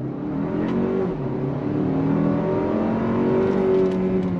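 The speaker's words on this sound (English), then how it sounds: "We're gonna go on throttle, sport mode." A 2023 Toyota Highlander Turbo accelerates hard at full throttle in sport mode, a steady loud engine drone with a rising tone heard from inside the cabin, without talk.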